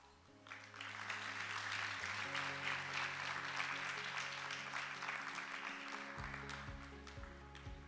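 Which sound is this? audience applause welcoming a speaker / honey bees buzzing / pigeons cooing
audience applause welcoming a speaker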